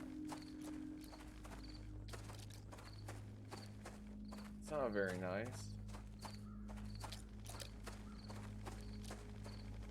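Horse hooves clip-clop in a steady walking rhythm through an online survival video game, the pace even and fairly close, with someone talking over it and game music droning underneath.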